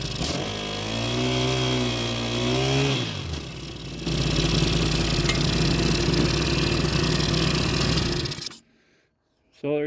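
A small Honda rototiller engine running after a carburetor repair, close and loud, its pitch rising and falling as it revs, then a steady hard drone that cuts off briefly near the end.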